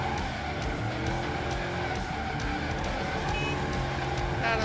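Car drifting in a racing video game, tire skids and engine noise layered under busy game sound at moderate loudness, with faint voice-like traces in the mix.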